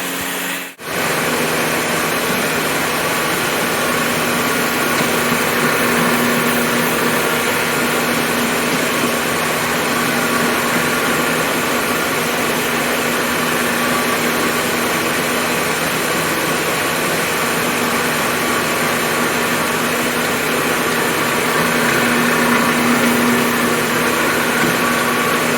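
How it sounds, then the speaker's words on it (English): Floor machine with a pad scrubbing acid into grout in a brand new home, a steady loud motor hum and rough scrubbing drone running continuously with little change throughout. "pad with the floor machine will spread it out. It'll spread out the acid, and it'll work it in there"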